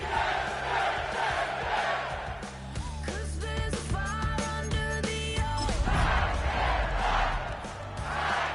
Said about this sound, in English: A great crowd on hand to battle the raindrops at Nissan